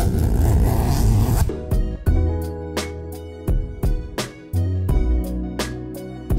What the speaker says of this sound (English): the zip is a tad loud